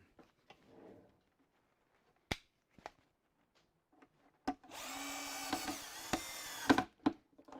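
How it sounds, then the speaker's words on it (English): A screwdriver drives screws into wood, opening with a few sharp clicks and knocks, then a steady whirring drive of about two seconds that ends with a final clunk, close and fairly loud. "I need to use my screwdriver on it, of course."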